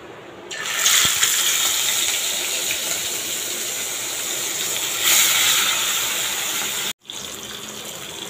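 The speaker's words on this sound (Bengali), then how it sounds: "এখানে 2 পিস মাছ ভাজছি" Two pieces of fish sizzle and hiss loudly in hot, smoking oil. The steady frying swells briefly once and stops for a moment near the end. No one speaks.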